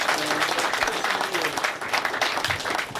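An audience at a live in-store guitar clinic claps and cheers for a player, a dense, steady burst of applause with a voice speaking over it.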